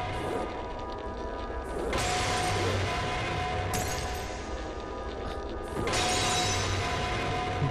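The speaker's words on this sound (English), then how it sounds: "glass just keeps falling" In a surreal horror game, glass keeps crashing down in repeated shattering bursts, roughly every two seconds. The crashes sit over a steady mechanical ratcheting bed, fairly faint overall, with no voices.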